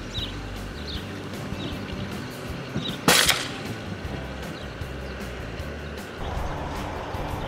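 A single sharp crack from a .357 air rifle fired at a groundhog outdoors, sudden and loud midway through, with a low background rumble before and after.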